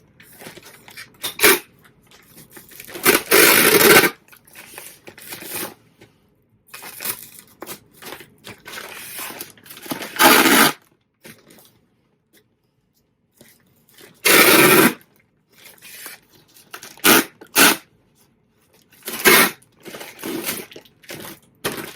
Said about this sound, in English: And tape gun noise warning.